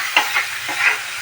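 Chicken with soy sauce sautéed in a pan, a brief close sizzle with a few quick stirring scrapes in succession, no speech.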